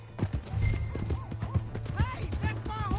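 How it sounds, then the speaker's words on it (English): Hoofbeats of a horse galloping off in the Red Dead Redemption 2 western video game, a steady clip-clop rhythm with a brief whinny, under shouting voices and a low background hum. "Hey, that's my horse! Just borrowing it."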